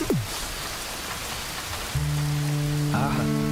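Steady rain falls in a Malayalam romantic film scene, an even hiss throughout, with sustained musical tones entering partway and swelling under the downpour.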